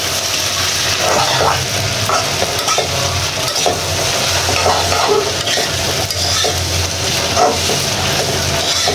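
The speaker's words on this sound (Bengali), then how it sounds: "আবার নেড়ে চেড়ে দিচ্ছি" Noodles fry in a pan while being stirred, giving a dense continuous sizzle with scraping and rustling from the spatula, close and loud, with no one speaking.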